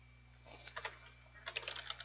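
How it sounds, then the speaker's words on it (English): Computer keyboard typing sounds close and quiet, with two quick bursts of keystroke clicks separated by a brief pause over a low steady hum. "I'm going to go ahead and type in here like maybe something like"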